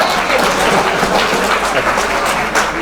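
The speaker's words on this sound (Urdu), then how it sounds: "پیچھے تالیاں بجا" Sustained applause from a crowd, a dense, even clapping wash that stays loud and continuous throughout.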